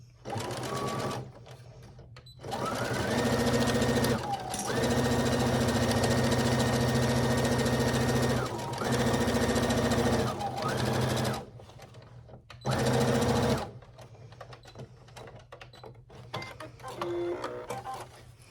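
A sewing machine runs a half-inch seam along a small boxy pouch, whirring in several close, steady bursts broken by brief stops and softer handling noises.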